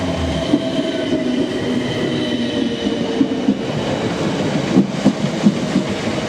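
A passenger train on the London & Southampton Railway rolls steadily along the tracks, with a continuous rumble and faint rhythmic wheel clatter, close and fairly loud, no voices.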